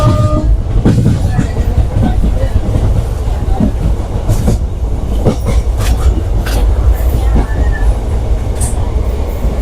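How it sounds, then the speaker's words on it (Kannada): Mysore Express train rolling through Shivapura station without stopping, a steady loud rumble with rail clatter and scattered metallic clicks, heard from on board throughout. "ನೋಡ್ತಾ ಇರ್ಬೋದು ನಮ್ಮ ಟ್ರೈನ್ ಇವಾಗ ಶಿವಪುರ ಸ್ಕಿಪ್ ಮಾಡ್ತಾ ಇದೆ."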